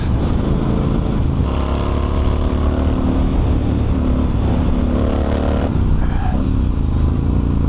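A 2022 Triumph Scrambler 1200 XC motorcycle on the move, its engine a steady, loud, close droning rumble that holds evenly throughout with only slight shifts in pitch.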